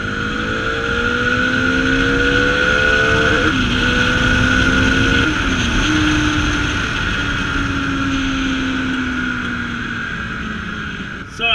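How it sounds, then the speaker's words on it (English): A Bajaj Dominar 400 motorcycle engine drones loud and steady at high speed, pitch rising and dipping as it accelerates hard and is downshifted aggressively through the slipper clutch, with wind roar throughout and no talking. "Let me go a little fast over here and try to downshift aggressively and find out."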